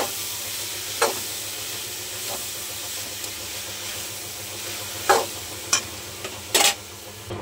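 Spring onion greens being stirred in a hot pan with green chilli paste, a soft steady sizzle under occasional sharp scraping clinks of a spatula against the pan, no voices.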